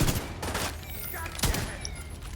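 Rifle gunfire in The Division 2, a few sharp game shots with one strong crack near the middle over busy in-game background noise.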